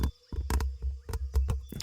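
A voice imitates an eastern grey squirrel's clicking teeth: a series of sharp, close clacks in an uneven rhythm, about eight in under two seconds, with no talking.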